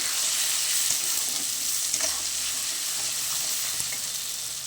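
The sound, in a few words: sautéing cumin, coriander and chilli spice paste in a pan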